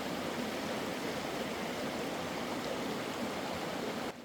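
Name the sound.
flowing stream water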